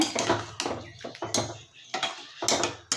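Repeated clattering scrapes of a utensil against a metal pot of peanut and broad bean curry with water, irregular and close, with brief pauses between strokes.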